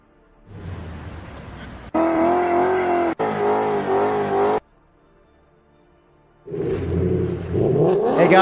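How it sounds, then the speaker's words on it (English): An 800 horsepower Ford Boss 302 engine in a racing video game, loud revving bursts that climb in pitch, cut off abruptly, then roar again after a brief quiet gap. "Believe it or not, Fway, that was 800 horsepower and out of a Boss 302"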